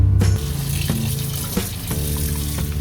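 Water running from a kitchen tap over mushrooms being washed, a steady splashing stream close by with faint knocks and clatters mixed in.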